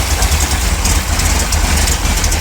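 A 1955 Chevy V8 engine idles heavily in gear against the torque converter, a loud, steady low rumble with a slightly loping rhythm throughout, close by and without voices.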